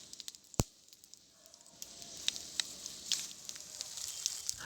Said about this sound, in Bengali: আর এরপর মা এর মধ্যে শুকনো লঙ্কা ফোড়ন দিয়ে নিল।